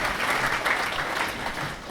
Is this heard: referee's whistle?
no